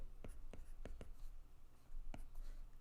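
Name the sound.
pen writing numbers on paper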